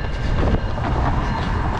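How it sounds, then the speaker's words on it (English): A brief, loud rumble of a passing train, with a dense rolling roar and faint rhythmic clatter. "Train."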